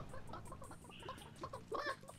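Clucking from a chicken in a video game, heard as quick, faint bursts over a busy game soundscape, with a louder squawk near the end.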